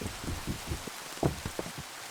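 Rain falls in Minecraft as a steady soft patter with a few louder drops, filling the whole short stretch.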